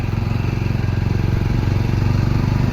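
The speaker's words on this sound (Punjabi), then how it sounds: "ਸਾਰਾ ਮੋਟਰਸਾਈਕਲ ਤਾਂ ਬਈ ਪਹਿਲੇ ਗੇਅਰ ਮੈਂ ਹੀ ਚੱਲ ਰਿਹਾ" A motorcycle engine labors in first gear on a steep uphill pilgrimage road, running loud and close with a fast, even pulsing throb that holds steady throughout.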